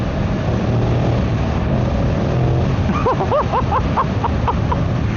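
A 2025 Yamaha MT-07 with the Y-AMT automated transmission rides with a steady, loud engine drone throughout, its pitch swinging up and down in quick rising sweeps as the throttle is blipped and the bike accelerates.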